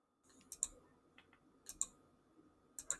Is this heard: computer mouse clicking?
yes